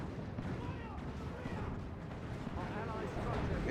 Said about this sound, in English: Assault cannon barrage from the Dreadnought.